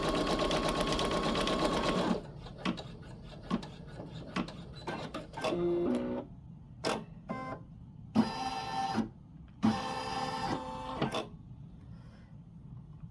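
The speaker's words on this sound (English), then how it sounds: "this machine's a lot quieter than my other one, so I thought I would film the tutorial on my new machine" A Baby Lock Flare embroidery machine stitching an in-the-hoop dog poop bag dispenser: a steady loud mechanical whir for two seconds, then bursts of rapid rhythmic stitching separated by short pauses and clicks, close up.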